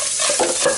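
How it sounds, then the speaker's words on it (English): Food sizzles in a hot frying pan as it is shaken around, a brief, loud, close hiss with a swishing surge in the middle. "And you start cracking them in the pan, and you shake them all around"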